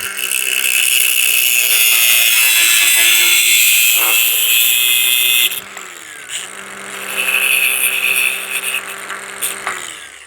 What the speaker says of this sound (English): we're going to take our grinder, go just a hair below that, chop the stud off